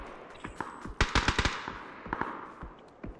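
Gunfire in PUBG, a rapid rattling burst of close shots with a few scattered single cracks after, sharp and fairly loud against a quiet background.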